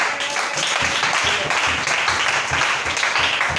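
Church congregation clapping loudly together, a dense steady roar of hands with a rhythmic pulse running through the whole stretch, close and energetic.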